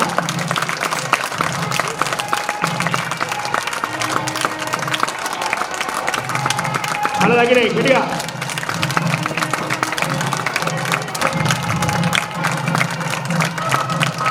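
Guests at a Hindu wedding ceremony clap steadily in a crowd while a voice speaks over the applause and chanting continues, the clapping sustained and fairly close throughout.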